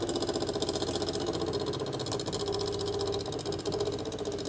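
A homemade plastic filament extruder's motor runs steadily and loudly, a continuous buzzing engine-like drone with a rough mechanical texture throughout.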